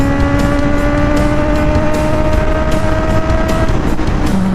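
A Honda CB650R motorcycle cruises on a road toward Bukidnon, Mindanao, its engine holding a loud, steady drone with wind rushing past, and the pitch dips slightly near the end.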